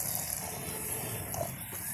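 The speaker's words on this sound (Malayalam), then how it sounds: "ഗൈസ് ഇനി നമുക്ക് ഈ വെള്ളം ഒഴിച്ചെടുക്കട്ടെ" Half a cup of water being poured into a curry in a cooking pan, a short, steady gushing pour close by with no talking.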